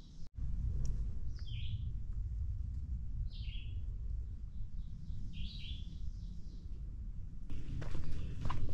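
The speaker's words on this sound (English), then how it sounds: "Hear that? They're birds singing." Faint bird chirps call out a few times over a steady low outdoor rumble on the Appalachian Trail near Palmerton, distant and intermittent.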